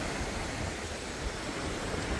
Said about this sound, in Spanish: Aquí tenemos la playa